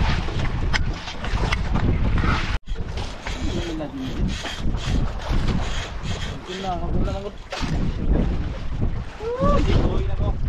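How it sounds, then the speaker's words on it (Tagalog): Strong wind buffets the microphone over rushing sea water with big waves, with voices calling out intermittently across the gusts. "kumahangin ang hangin. Mga bay. Malalaki na ang alon."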